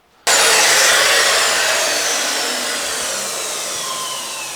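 Wood on a guitar headstock is trimmed off at an angle with one continuous abrasive cut that starts abruptly and then fades slowly over a few seconds, up close, with no voices.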